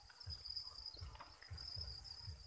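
Pet crickets chirp steadily in a continuous high trill, faint and close, with soft low bumping underneath and no voices.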